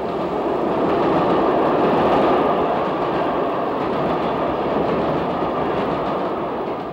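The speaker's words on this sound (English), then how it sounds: "Here, one of the smallest classes of Great Western engine brings its single coach train into what looks like the branch of a branch" Steady, rumbling rail noise from a small Great Western steam engine pulling a single coach into a branch line station, a continuous low roll without distinct chuffs or whistle.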